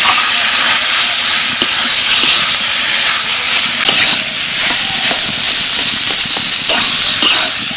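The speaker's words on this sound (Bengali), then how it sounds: "আলুর মধ্যে মশলাগুলো দিয়ে 1 মিনিট মতো নাড়াচাড়া করে নিলাম।" Mashed potato with salt, turmeric and ginger paste being stirred in a hot pan, giving a loud, steady hiss and sizzle with faint intermittent scraping ticks throughout.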